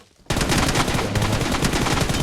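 Rapid automatic gunfire from the video game PUBG Mobile bursts in after a brief silence and keeps rattling loud and close, a dense string of shots for about two seconds.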